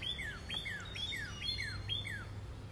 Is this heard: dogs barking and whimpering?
no